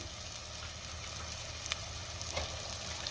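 Pieces of mutton hiss and crackle in a hot pan of spiced masala, a steady close sizzle with a few sharper pops and scrapes, heard alone without talk.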